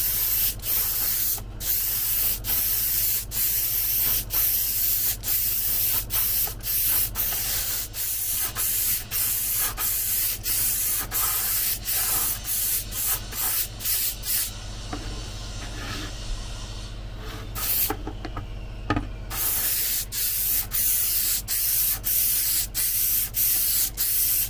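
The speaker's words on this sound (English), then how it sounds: "This is the piece that I'm going to spray." Aerosol spray paint hisses in repeated bursts onto a piece, close and loud, separated by short clicks and pauses, with a brief quieter stretch midway.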